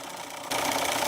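Sewing machine stitching an embroidery stitch, a quiet hum that steps up into a steady, loud, fast-running stitching whir partway through.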